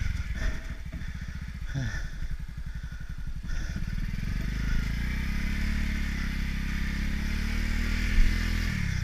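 A 50cc motorcycle struggling off-road with its wheel slipping, the small engine revving hard and droning continuously close by, with clattering and a rhythmic chugging early on and no speech.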